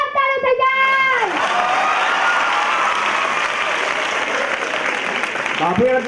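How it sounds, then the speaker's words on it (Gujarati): An audience at a school annual day celebration claps and cheers loudly for the participants, with dense applause and crowd noise dominating. A voice speaks briefly at the start and again near the end. "તો પછી બધા જેટલા ભાગ લીધો પાર્ટિસિપેટ એના માટે જોરદાર તાળીઓ થઈ જાય"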